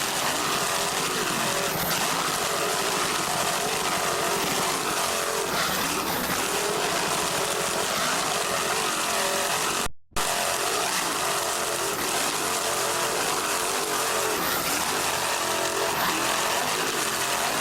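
A racing powerboat engine runs at full throttle over bumpy Gulf of Mexico waters, a steady loud broadband roar that holds almost without pause, breaking off for a split second midway before resuming.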